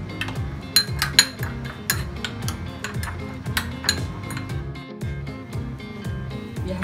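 A spoon clinks and scrapes steadily against a dish while mutton marinade is mixed with lemon juice for achari mutton, a continuous close rhythm of metallic taps and stirring with no voices.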